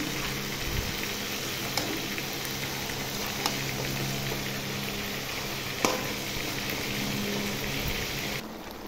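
Chicken cooking with mango leaves in a pan gives a steady, even sizzle throughout, close by, with a few faint clicks and taps over the constant frying hiss.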